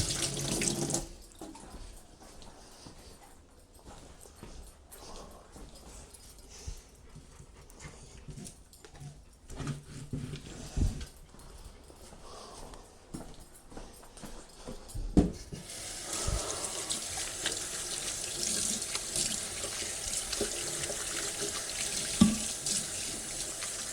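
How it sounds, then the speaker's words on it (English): Water runs from a tap as a cloth is rinsed under it, a steady hissing stream that grows louder and brighter partway through, with occasional clunks and splashes nearby. "Wash the cloth off"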